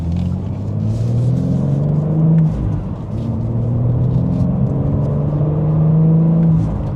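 BMW manual coupe, M4 or M2, accelerating hard from second gear, engine note climbing steadily then dropping at a shift before rising again, loud and close with a deep rumble, no talking.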